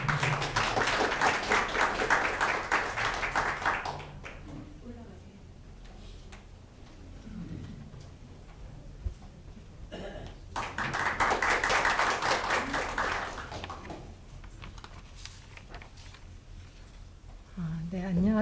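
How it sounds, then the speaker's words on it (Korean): Congregation at a Korean church thanksgiving worship service claps in two bursts of applause to welcome a speaker, dense clapping at first, fading, then rising again, with talking in between. "박수로 환영해 주시면"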